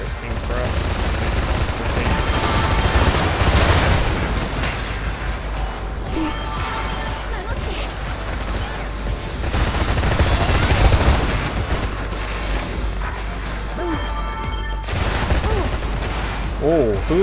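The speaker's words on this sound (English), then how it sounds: "who the heck is licking flashbangs like that?" Flashbang blasts and bursts of gunfire in Freedom Wars Remastered during a ranked PvP match, with loud, dense volleys that surge twice and then ease off, beneath game alerts and a player's voice.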